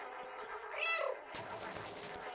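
A cat meows in the video game Stray, one drawn-out, rising and falling call near the middle, clear and close over a steady background hum.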